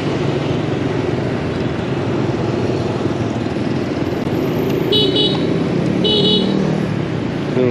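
Busy Saigon street traffic with a steady roar of cars and motorbikes, short horn toots cutting through around the fifth and sixth seconds, all fairly close and continuous.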